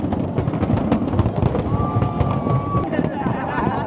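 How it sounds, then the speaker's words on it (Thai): Fourth of July fireworks display in New York: rapid volleys of sharp cracks and booms crowd together, with a thin rising whistle in the middle and voices in the background. "และช่วงเวลาสำคัญนะครับ ของการแสดงพลุ ก็ถือว่าประทับใจสุดๆเลยแหละครับ"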